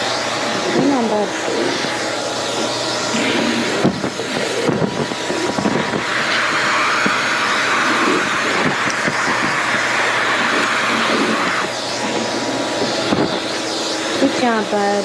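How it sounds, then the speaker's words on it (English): Vacuum cleaner sucking Maltese dog hair off a grooming table, a steady loud whirring drone throughout with someone talking softly over it. "let's vacuum that"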